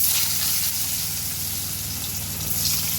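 Potatoes frying in fish oil in a pan while Tangra fish curry is made at home, a steady bright sizzle with a low hum underneath, close and continuous, with no talking.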